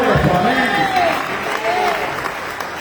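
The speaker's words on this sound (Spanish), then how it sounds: "Denle aplauso al Señor, hermano, porque Él somos más que vencedores." A church congregation applauds during a Spanish-language service, a dense wash of clapping that runs the whole time under a preacher's voice.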